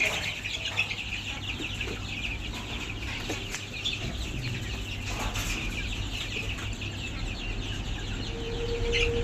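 Desi chickens and young chicks on a poultry farm cluck and peep in a continuous busy chorus, with scattered higher calls over low background noise and no speech.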